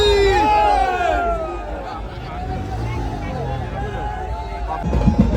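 A dense crowd at the Ekvira Aai palkhi procession, a loud continuous hubbub of many voices with engine rumble mixed in and a louder swell near the end.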